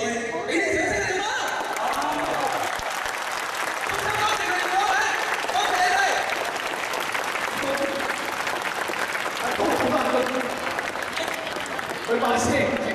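A live studio audience at a Hong Kong digital radio station applauds steadily, a dense, even roar of many hands lasting the whole stretch, with faint chatter and laughter mixed in.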